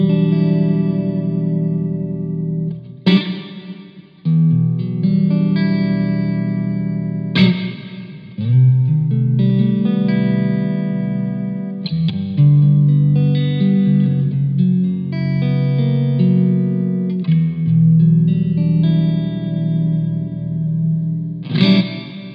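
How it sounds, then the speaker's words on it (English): A Blackstar Silverline guitar amp plays a sustained, chorused and distorted guitar with reverb turned all the way up, chords washing and trailing into long echoing tails, loud and continuous with no talk. "And our last reverb, all the way up, because why not?"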